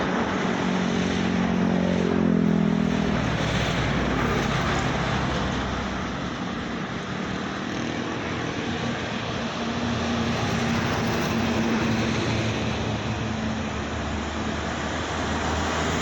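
The Pusaka legend bus speeds along the road, a loud, continuous engine roar mixed with wind and tire noise that swells early and then holds steady, with no talk.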